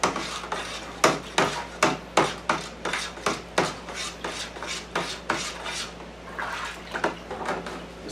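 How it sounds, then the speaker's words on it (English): Oat whiskey mash being stirred with a paddle in a vessel, a steady rhythm of about a dozen rasping, sloshing strokes, fairly close and loud, with no voices. "Give it another good stir."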